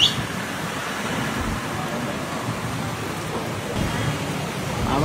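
A wind and rain storm sends a continuous, broad rushing roar of gusting wind and falling rain, fairly even in loudness throughout.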